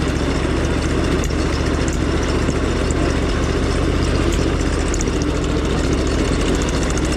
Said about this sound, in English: I'm just barely above an idle, 4th gear